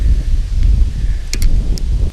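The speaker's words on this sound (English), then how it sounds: "And of course the wind's blowing today." Gusty wind blows across a rocky lake shoreline, rumbling steadily and heavily into the microphone, with faint rustling and a few brief higher clicks.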